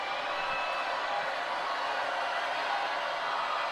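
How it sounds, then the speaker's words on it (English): Steady crowd noise fills the arena at a 2020 men's college volleyball match between BYU and UCLA, a continuous wash of murmuring and cheering that holds level without distinct peaks. "Crowd making some noise for the Canadian"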